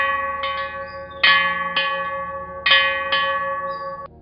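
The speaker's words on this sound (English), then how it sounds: "He struck the bell 3 times." A ship's lookout bell struck repeatedly, clear metallic clangs with long ringing decay, several strikes at uneven intervals, close and alone.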